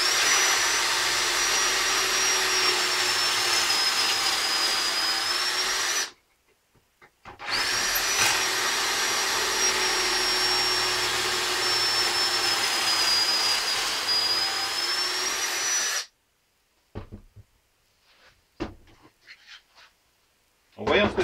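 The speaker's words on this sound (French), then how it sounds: "il vous suffit de percer jusqu'à la profondeur donc de la butée" A drill boring holes into wood down to a depth stop, two long steady high-pitched whines separated by a brief pause, followed by quiet clicks and handling noise.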